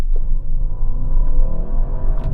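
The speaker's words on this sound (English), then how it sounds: "then I'm going to accelerate out of the bend from 25 miles an hour" An Audi RS7 Performance accelerates out of a bend from 25 mph in second gear, its deep engine rumble rising steadily in pitch from inside the car with no talking.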